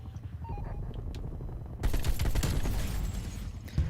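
AK-47 automatic fire in the video game Black Ops Cold War, rapid bursts erupting about halfway through after quieter in-game ambience, loud and sustained to the end.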